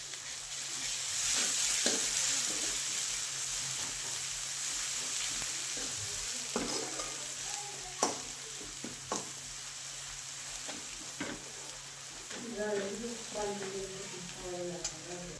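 Spice tempering sautéing in a pan with a ground paste of coconut, garlic, coriander and curry leaves, a steady soft sizzle with scattered clicks and pops of stirring, and a voice speaking briefly near the end.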